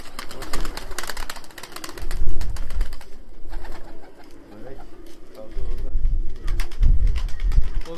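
Abdal Arab game pigeons coo repeatedly at a Konya bird market, soft low throaty calls coming in several bursts amid outdoor crowd noise and wind, with people talking throughout.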